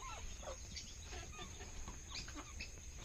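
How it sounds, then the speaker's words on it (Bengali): Chickens and a large rooster on a farm cluck and murmur faintly in overlapping calls, with a steady high electrical whine running beneath the flock throughout. "এই যে মুরগি, এই যে একটি বড় মোরগ।"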